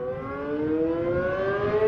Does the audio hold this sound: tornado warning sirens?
yes